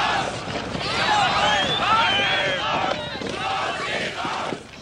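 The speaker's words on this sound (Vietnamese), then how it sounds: "Đó là đám đông biểu tình tại thành phố Leipzig hô lớn khẩu hiệu chúng tôi muốn đi và Stasi cút đi" A crowd of protesters in Leipzig, East Germany, chanting slogans together, a loud massed roar of many voices with rising and falling shouts heard from a distance.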